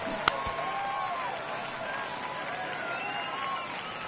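A baseball stadium crowd in the video game MLB The Show 23 keeps up a steady roar during a one-run game in the ninth inning, with one sharp click near the start.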